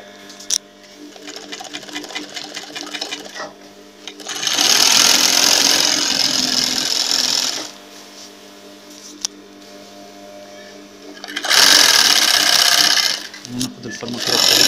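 A sewing machine stitches a clog shoe in two bursts of fast, buzzing running, each lasting a few seconds, separated by quieter handling sounds and a voice talking nearby.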